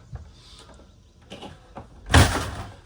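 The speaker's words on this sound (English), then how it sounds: "So let's get this door closed" A door on a 2025 Grand Design Imagine 2300 MK travel trailer shuts with one solid thud after some light handling clicks, close and fairly loud, with no talking.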